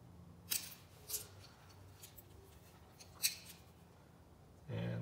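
Scissors snip through the wire of an LED Christmas light string, giving three short, crisp cuts spaced irregularly in a quiet room, followed by a low thud at the end.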